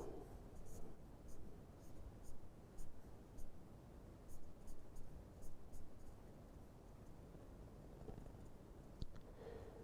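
A tree being drawn on a board in a lecture, with chalk or marker strokes squeaking and scratching in short repeated bursts against a soft hiss.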